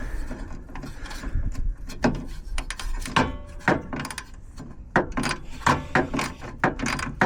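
A ratchet cracks loose 8mm bolts on the grille of a Mk1 Volkswagen Westfalia camper van, giving close, uneven clicks and scraping metal knocks over a rumbling background, with no speech.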